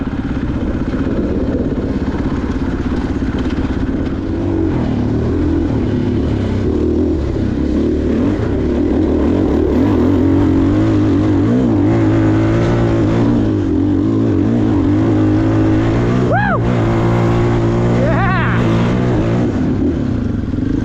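A 2023 KTM 500 EXC-F dirt bike fitted with a Graves exhaust runs loud and close, its engine note rising and falling steadily with no speech.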